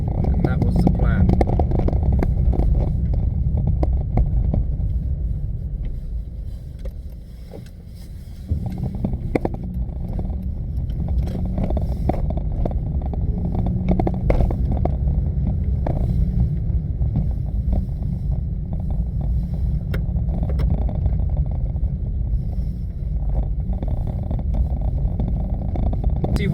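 A Peugeot 107 small car on the road, heard from inside as a steady low engine drone and road rumble with wind buffeting, briefly easing off mid-way before resuming at a constant cruise.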